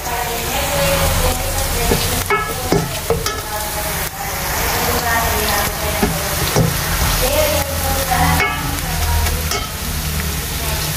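Masala with red chili powder frying and being stirred in a pan, a steady close sizzle with scraping stir strokes throughout, no talk.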